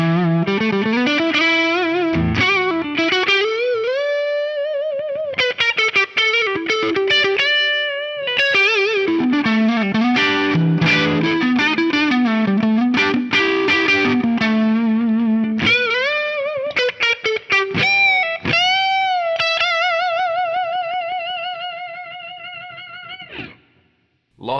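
A heavily compressed, sustained electric guitar tone from an Axe-Fx III preset plays a sliding, bending melodic line with long, smooth notes and chorus-like shimmer, ending on a held note that rings out and fades, with no talking.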